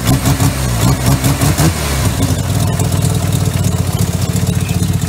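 A Mazda RX-7 FD engine after Haltech Elite tuning, heard up close and loud: a few quick revs in the first couple of seconds, then a steady, even idle for the rest.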